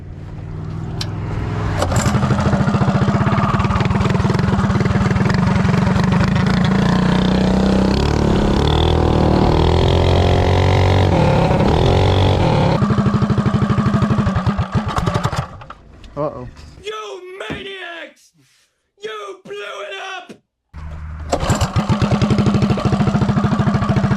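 A racing mini bike engine running on nitrous roars loudly and close, its pitch climbing and falling as it revs hard. The engine then drops away, and voices talk briefly before it picks up again.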